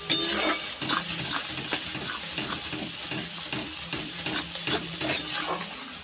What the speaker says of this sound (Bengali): মশলাটা বেশ ভালো করে ভেজে নিয়েছি